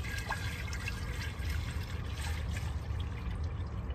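Water pours steadily from a stored supply inside a van into a container, a soft continuous trickle heard close up for a few seconds with no talking.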